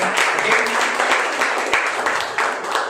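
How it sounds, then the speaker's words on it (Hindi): A congregation at a Sunday evening church service applauds: many hands clapping together in a dense, continuous round of applause that holds steady for a few seconds. "तो उनका भी ताली बजाएंगे, हम स्वागत करते हैं"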